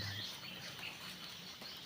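Birds chirp faintly and continuously in a rainy forest during a hunting trip for squirrels and fruit-eating birds, a soft, dense twittering over steady background hiss with no voices.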